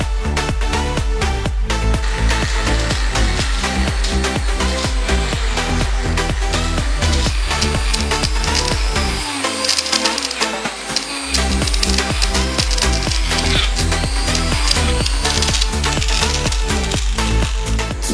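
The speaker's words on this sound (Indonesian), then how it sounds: "penggunaan bor tangan juga membantu merealisasikan motifnya" A hand drill whines and chatters steadily against PVC pipe, loud and close, briefly easing midway before resuming its grinding buzz.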